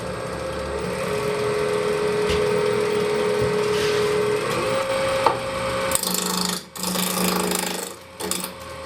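A wooden stretcher spins on a lathe while being roughed down, giving a steady motor whine with rough, continuous scraping of the tool against the wood that shifts and briefly drops out near the end.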